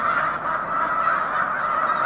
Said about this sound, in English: this is the largest of the groupings of geese